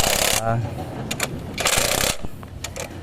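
A power impact wrench fastens a part on a work site in short bursts of rattling hammering, a strong one at the start and another just past midway, with fainter mechanical clatter in between.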